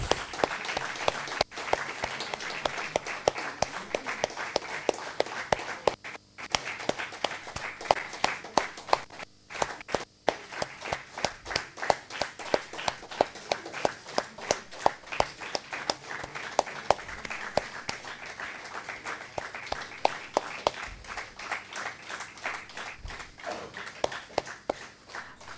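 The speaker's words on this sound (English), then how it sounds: "Give a big round of applause." Audience applause at an alumni meet and book launch, sharp individual claps forming a sustained, uneven patter that runs for the whole stretch, with a few brief dips.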